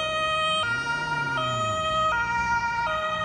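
A police car siren wails loud and close in Hamburg's Jenischpark, its tone stepping between two pitches in a steady alternating pattern over road noise, with no talking.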